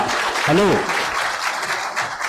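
At a public meeting, a crowd applauds the administration with dense, sustained clapping. A voice briefly sounds over it.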